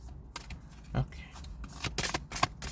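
Tarot cards being shuffled by hand, a string of short riffling bursts and soft slaps with quiet gaps between them, close to the microphone, with a voice speaking faintly now and then.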